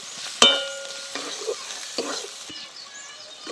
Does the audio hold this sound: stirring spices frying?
yes